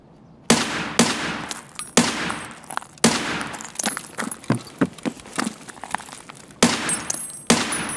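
Gunfire in the shooter game Escape from Tarkov, a series of sharp, loud shots with ringing casings, some single reports and a rapid burst in the middle.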